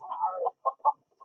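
Chickens in a Lego Worlds game give a few short, soft clucks, a longer burble followed by two quick separate clucks.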